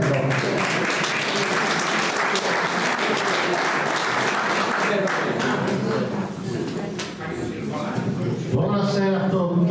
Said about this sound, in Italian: un applauso a Roberto